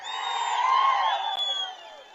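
A rally crowd at a large public meeting near the Kia plant in Penukonda cheers and whoops, a broad sustained roar that swells and fades over about two seconds.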